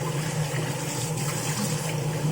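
Warm water pours steadily from a kitchen tap, a continuous close rushing and splashing with no breaks and no voices.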